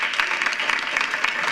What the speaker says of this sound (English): So I would like to give ourselves a hand clap.